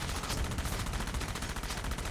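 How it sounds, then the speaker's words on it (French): Rapid gunfire in a video game forms a dense, continuous rattle of overlapping shots, loud and unbroken across the whole two seconds. "Il a arrêté de me tirer dessus"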